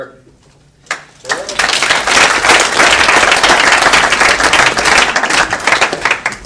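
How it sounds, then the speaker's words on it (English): A roomful of people breaks into sustained applause for a speaker being introduced, loud, dense clapping swelling after a brief quiet start and carrying on steadily to the end. "It's probably the easiest round of applause you've ever gotten in your life."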